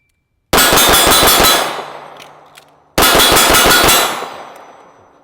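Two rapid strings of sharp gunshots with metallic clangs ringing off steel, each burst fading into a decaying ring, close and loud.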